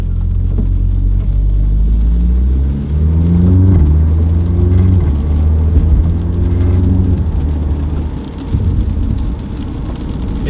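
Audi TTS (MK2 8J) engine after a fuel system upgrade, revving loudly with rising and falling pitch sweeps over a deep steady rumble, close and continuous with no talk.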